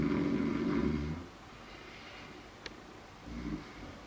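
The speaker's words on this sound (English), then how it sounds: "his snoring echoed through the house" A young man in deep sleep snores loudly through a house in the early morning. Two rough, rumbling snores stand apart, with a quiet gap between them.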